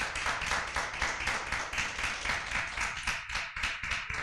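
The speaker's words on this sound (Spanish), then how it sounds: "Denle un fuerte aplauso al Señor." A congregation claps in an even, rhythmic beat, the sharp claps repeating several times a second for the whole stretch, close and moderately loud with no talk over it.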